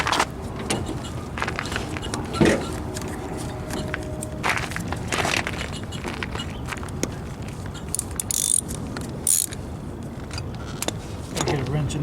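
A wrench ratchets and clicks while bolts on a Craftsman lawn tractor motor are tightened, with intermittent metallic clinks and shuffling nearby and a voice talking at times.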